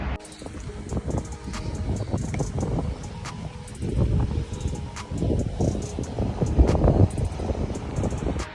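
Strong high-speed wind blowing outdoors in Saudi Arabia, a loud, continuous buffeting roar with gusts that swell and fade across the whole stretch, with no voices over it.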